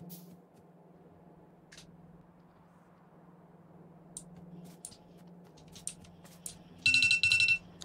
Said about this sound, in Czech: Tyhle budík.